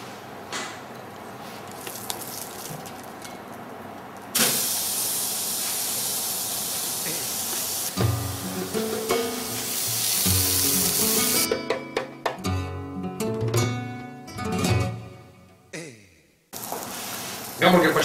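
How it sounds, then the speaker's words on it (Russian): A hamburger patty straight from the fridge sizzles on a hot grill, a steady hiss with crackling, broken by clattering handling sounds and pauses while someone talks in Russian. "Так, призывно шипит."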